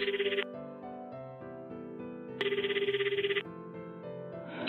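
A telephone ringback tone after a home number is dialed on a mobile phone, two bursts of trilling electronic ringing separated by a pause, clear and alone.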